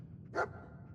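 Dogmeat, the dog companion in the Fallout 4 video game, lets out a single short, soft bark against a quiet low background hum.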